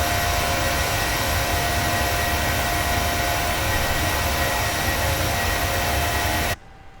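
Steady loud roar of Boeing 737-800 jet engines during climb-out in a PMDG flight simulator game, a constant broadband drone that cuts off abruptly near the end.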